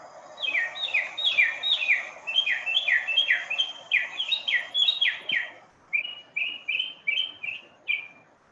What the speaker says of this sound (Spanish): El sinsonte norteño, que es una especie americana y que, bueno, os voy a poner el canto solo por saciar la curiosidad